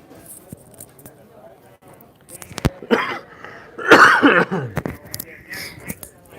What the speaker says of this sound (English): Trying to cough without you guys blowing out your eardrums